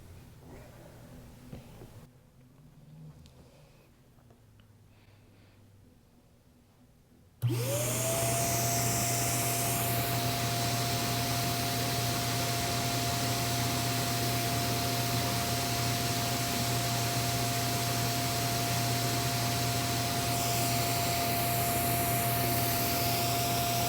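An Okki Nokki record cleaning machine kicks on after some quiet handling and vacuums a record with a loud, steady roaring whine and a sustained motor tone that runs unbroken to the end.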